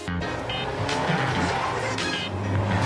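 Lancia Delta Integrale Martini rally car, an 1980s rally legend, driven hard on a twisty road, engine roaring close and loud with revs climbing and tires squealing through a hairpin.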